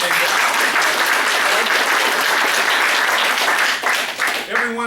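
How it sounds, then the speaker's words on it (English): A rally crowd bursts into loud, sustained applause, dense and close throughout, with a voice breaking through near the end as the clapping eases. "Let's give a round of applause to the people who came"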